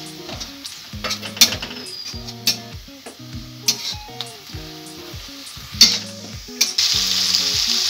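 Cashew paste and ginger paste fry with winter vegetables in a pan, a bright steady sizzle punctuated by rhythmic metal spatula clanks and scrapes, close up, with the sizzling swelling louder at the end.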